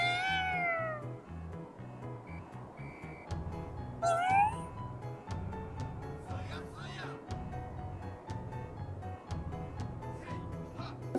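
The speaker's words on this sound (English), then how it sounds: "Is that a cat?" A cat yokai meows on the streets of a deserted Tokyo in Ghostwire: Tokyo, a couple of clear, rising meows, one at the start and another midway, over soft game ambience and music.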